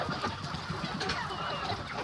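A crowd of adult chickens clucking inside a chicken house on a poultry farm, a dense continuous chorus of overlapping clucks filling the space, with no talk.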